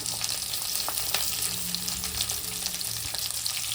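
Garlic and onion frying in a pan for a mutton head meat sambar, giving a steady, moderate sizzle with faint stirring clicks, close by and free of speech.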